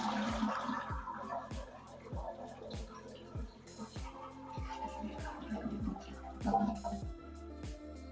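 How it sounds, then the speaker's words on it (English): A household toilet being flushed, with water rushing and draining in a continuous wash across the whole stretch, fairly close and steady, while a repeating low rhythmic background sound runs beneath it. "let me go ahead and flush this toilet"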